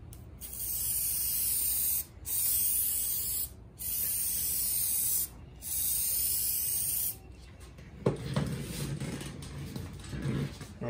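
Aerosol spray can spraying Plasti Dip onto car emblems in four close, loud hissing bursts with short pauses, followed by quieter handling noise.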